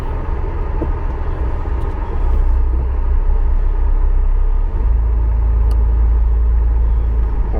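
A Reliant Scimitar pulls away from a home gateway on a cold day, its engine a steady low rumble that swells louder partway through as the car moves off, with no talking over it.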